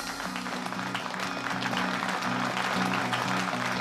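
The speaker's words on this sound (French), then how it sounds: "Applaudissez-les." Applause welcoming arriving guests at a formal evening ceremony, steady clapping from a gathered crowd held under a sustained musical backing, moderately loud throughout.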